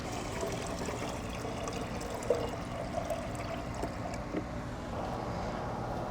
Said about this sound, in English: I'm gonna add the tea to my watering can